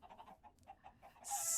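Minecraft chickens clucking in a short run of soft, repeated clucks, followed by a sudden louder burst of hiss-like noise near the end.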